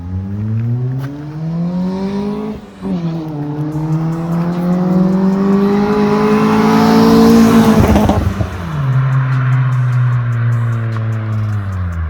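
A Honda Civic with a new exhaust system revs up hard and holds high, then drops back, its exhaust note loud and close, with a brief dip near the start.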